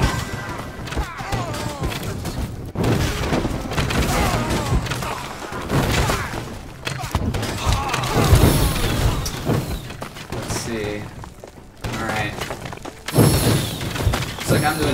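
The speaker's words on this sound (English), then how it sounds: "the knight is gonna eat all these explosions" Explosions in the VR strategy game Skyworld, a dense run of booms, thuds and crackling blasts mixed with game effects, with a person talking over the noise throughout.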